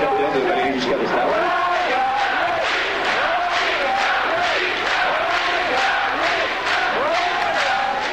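A dense street crowd of a few hundred young Giscard supporters fills the air with continuous rhythmic chanting and cheering, loud and steady throughout.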